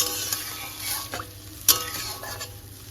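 Gravy for lentil and prawn muittha dumplings bubbles gently in a pan, with soft irregular pops and a faint sizzle and occasional sharper clicks close by.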